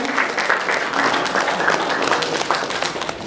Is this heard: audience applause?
yes